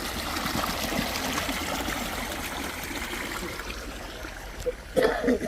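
Water runs steadily through an irrigation channel into a farm field, a continuous outdoor trickle with brief louder splashes near the end.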